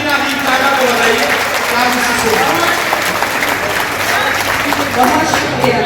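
A mushaira audience bursts into sustained loud applause, dense clapping from a large crowd filling the whole stretch without a break.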